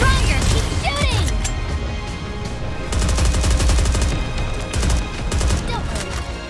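Rapid automatic gunfire from a mobile anime shooter game, loud and sustained bursts of shots with mechanical clatter, layered over game music and effects throughout.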